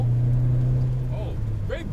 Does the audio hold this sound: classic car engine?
yes